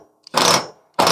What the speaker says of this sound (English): and then we're going to use the impact wrench.